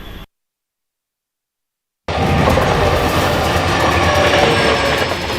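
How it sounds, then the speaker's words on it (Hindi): An Indian Railways train hauling oxygen tankers rolls past, a loud, steady rumble with clattering wheels on the rails following a brief silence. "ऑक्सीजन का टैंकर लेकर आती रेलगाड़ी की ये तस्वीरें सुकून देने वाली हैं"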